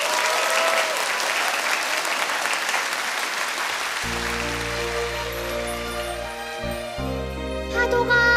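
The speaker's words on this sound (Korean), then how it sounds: "자, 그럼 새 친구들의 무대 여러분들의 큰 박수와 함께 시작하도록 하겠습니다." Audience applause fills a television studio at a children's singing contest, steady and loud, then fades as a musical accompaniment starts up underneath around the midpoint.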